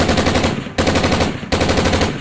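A voice imitates gunfire with loud, rapid, continuous machine-gun-like bursts, broken into three close runs with brief breaks between them.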